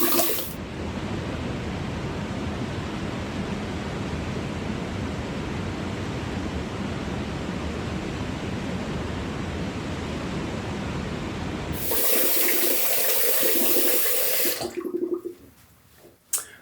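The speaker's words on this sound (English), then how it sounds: "let's rinse off" Water from a tap runs steadily and close for about twelve seconds while someone rinses off after shaving, then turns brighter and splashier before cutting off near the end.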